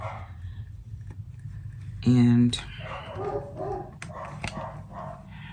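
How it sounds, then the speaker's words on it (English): A single loud dog bark cuts in close by, followed by a person speaking over lighter background noise. "the dogs are gonna keep barking"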